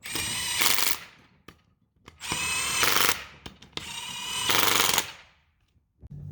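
A power tool runs bolts down while a blower and turbo are reinstalled, giving three loud bursts of rapid rattling impact, each about a second long, with short clicks and clanks between them.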